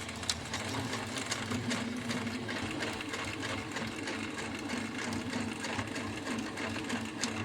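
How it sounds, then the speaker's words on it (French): A sewing machine runs steadily while stitching box pleats in fabric, a continuous fast mechanical whir and needle rattle, close and even throughout with no voices. "Mettez votre aiguille bien à droite et piquez"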